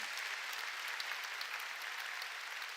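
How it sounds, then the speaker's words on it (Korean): Steady, dense applause from a church congregation during a Korean sermon, continuous and even throughout with no talking. "박수 칠려면 치고 말려면 말려."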